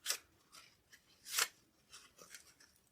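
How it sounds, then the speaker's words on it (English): Scissors snip plastic away from a Sharpie marker tip, a few short, crisp cuts at an uneven pace, close and fairly quiet, with no talking. "I just need to cut the plastic away, so the tip's kind of clean"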